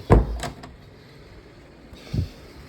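A door shuts with a sharp thud followed by a rattle, then a second softer knock comes about two seconds later, close by in a quiet room.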